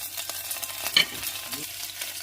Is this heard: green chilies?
yes